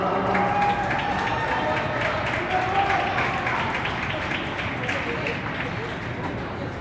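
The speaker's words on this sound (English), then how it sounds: "drawing the applause of both fan bases" Applause from both fan bases after a youth hockey championship game in an ice rink, a dense sustained wash of clapping filling the arena with a crowd murmur, with speech mixed in.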